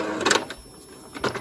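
An EcoTank inkjet printer whirs and clacks through its printing cycle in two short bursts of mechanical feed noise separated by a quieter pause, close by.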